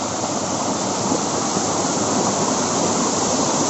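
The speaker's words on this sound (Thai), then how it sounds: "น้ำตกเล็กๆ นะครับทุกคนนะกลางป่านะครับผมในป่านะครับ" A small waterfall in a forest gives a steady, full rushing splash of falling water, close and even from start to finish, with no other sounds or talking.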